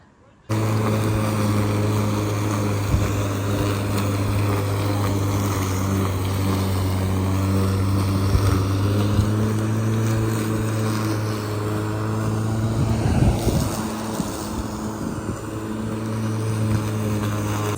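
A grass trimmer cuts grass in a backyard, giving a steady, loud, droning engine whine with strong tonal hum that carries on throughout, swelling slightly midway.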